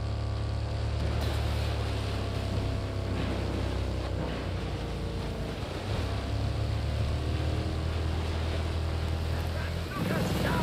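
A moped in the video game Ghost Recon Breakpoint gives off a steady, droning engine hum that runs throughout, with wind-like rushing noise and a voice talking over it at times.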